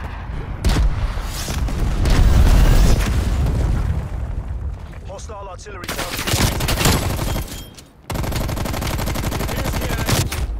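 Gunfire in Call of Duty: Black Ops Cold War, loud dense bursts of automatic shots and booms throughout, with game effects and a voice heard amid the shooting.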